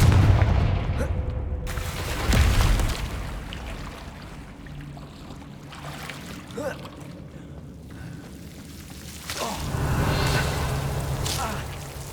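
Confringo fire-spell blasts erupt in Hogwarts Legacy: heavy booming bursts at the start and again near the end, with a quieter rumbling game ambience between them.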